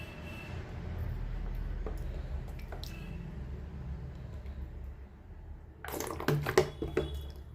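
Coconut oil is poured onto powdered fenugreek and ground leaves while making homemade herbal hair oil, heard as a faint low hum followed by a short burst of close liquid splashing and dripping.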